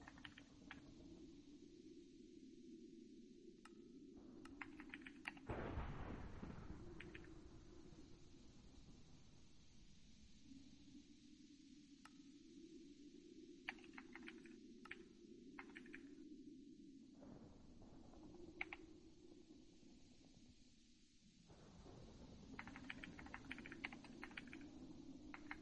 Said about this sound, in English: There's a lot of typing.